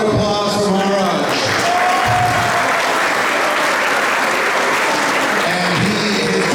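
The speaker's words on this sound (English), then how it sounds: "Another round of applause for Maharaj." Audience at a Janmashtami festival lecture giving a sustained round of applause, dense and loud throughout, with a voice speaking briefly at the start.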